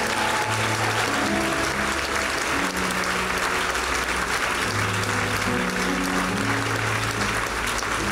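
A church congregation claps and cheers continuously during an Easter festival service, a dense, steady wash of applause with crowd voices and some musical tones underneath throughout.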